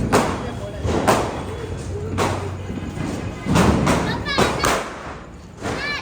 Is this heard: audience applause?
no